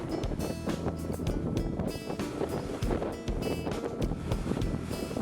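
A sailboat tacking at sea under a light genoa: steady wind rush and water hiss against the hull, with creaking and rushing bursts, loud and close throughout.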